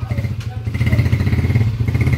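A repaired motorcycle engine idles close by with a steady, loud, rapidly pulsing putter and a light mechanical clatter, running on its own without speech.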